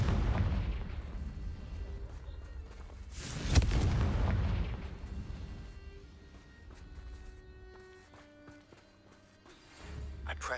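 A Confringo fire spell blasts in the Hogwarts Legacy video game, giving one loud booming explosion about a third of the way in over a rumbling game soundscape, which fades to quieter ambience and swells again at the end.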